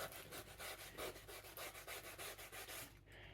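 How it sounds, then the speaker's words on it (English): Sandpaper smoothing the cut circular edge of a hat brim, quick rhythmic rubbing strokes, close but faint, no speech. "I'd rather sandpaper it than use this, scissor to make that circle smoother"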